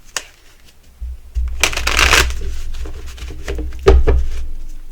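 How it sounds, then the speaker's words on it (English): A deck of Crow Tarot cards is shuffled up close, with brisk riffling bursts, papery flutter and a sharp tap as the cards are squared, with no talk. "One more shuffle."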